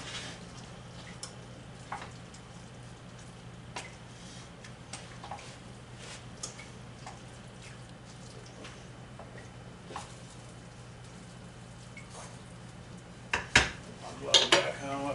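Ground turkey, mushroom and three eggs being mixed for a meatloaf in a bowl: soft, scattered clinks and taps of utensil against dish, with a low steady background hum and a few louder knocks near the end.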